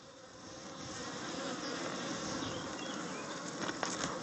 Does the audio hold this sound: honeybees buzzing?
yes